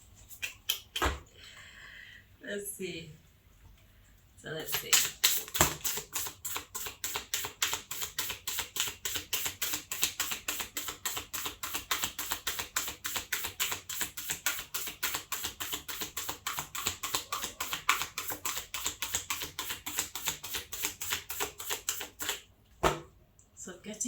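Tarot cards are shuffled up close in a long run of rapid, crisp riffling clicks, briefly preceded and followed by a few soft spoken words.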